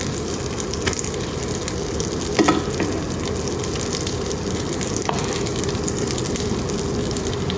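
Butter buns fry in melted butter in a pan, giving a steady, close, even sizzle that runs throughout with a few small crackles and no talking.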